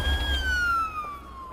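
A Belgian ambulance siren sounds as a single loud, clear wailing tone that slowly glides downward, close by with faint traffic rumble beneath.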